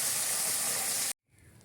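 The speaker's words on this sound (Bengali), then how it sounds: "তো ওই তেলটার মধ্যেই একটু বেগুনগুলো ভেজে নিচ্ছে।" Eggplant frying in hot oil, a dense, loud sizzling hiss that holds steady for about a second and then cuts off abruptly, leaving only faint residual noise.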